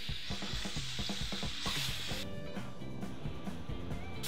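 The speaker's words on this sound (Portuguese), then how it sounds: "fritando até dourar." Chicken frying in olive oil in a large frying pan, a continuous sizzle with repeated clinking stirs and utensil scrapes close by.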